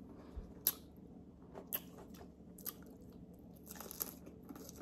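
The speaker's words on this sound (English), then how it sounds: "That was a big bite." Several crunchy bites into store-bought pizza land at close range, each a sharp crackling snap followed by softer chewing, spaced roughly a second apart.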